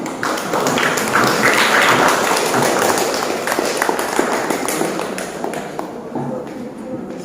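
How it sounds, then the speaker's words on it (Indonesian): A classroom audience claps for a group presentation: dense, steady applause from many hands running for several seconds, then thinning and fading toward the end. "diberi tepuk tangan"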